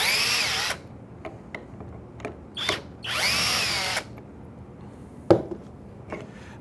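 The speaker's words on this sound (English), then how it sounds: "you can easily back the screws out to disassemble a part" A power drill backs screws out of a pocket hole joint in wood, giving two loud whirring bursts of a few seconds each, separated by quieter handling clicks and taps.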